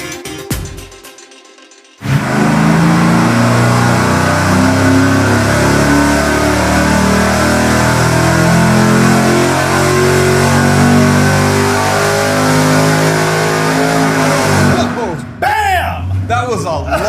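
A supercharged small-block V8 with cast pistons revs hard on an engine dyno, a loud sustained roar for about thirteen seconds that cuts off into quieter spool-down and brief sounds afterward.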